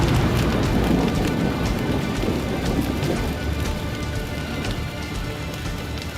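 Heavy rainstorm pouring down on the ground, a dense steady hiss of raindrops hitting surfaces with low rumbling undertones, loud and continuous throughout, easing slightly toward the end.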